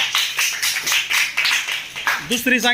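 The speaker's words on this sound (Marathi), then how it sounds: "टाळ्या वाजवा त्याच्यासाठी मग जोरात" A classroom of children claps together in a quick burst of uneven rapid claps, close and loud, ending as a voice begins speaking.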